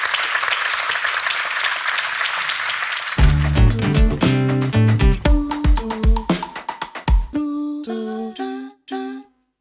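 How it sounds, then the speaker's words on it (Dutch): Sustained applause from a large audience fills the room, then gives way to a series of musical chords that end in a few sharp stabs. "applaus."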